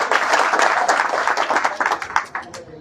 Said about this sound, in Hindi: ताली बजा दीजिए एक बार।